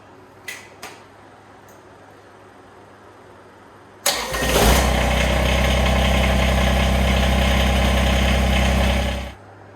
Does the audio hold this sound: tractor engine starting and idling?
yes